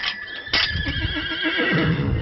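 A horse playing with a soccer ball gives a loud, close neigh that trails into a breathy whinny, with faint hoof sounds beneath and no talking.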